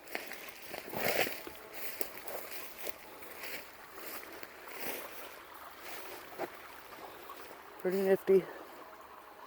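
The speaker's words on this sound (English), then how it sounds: "The creek." A small creek flows on a rural property, a gentle continuous babble and trickle heard close by, with someone talking briefly over it and a short bright tone near the end.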